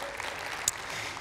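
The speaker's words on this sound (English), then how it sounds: "giving them a round of applause." A church congregation applauds during a Sunday worship service, a steady, fairly faint wash of clapping from many hands that continues without a break.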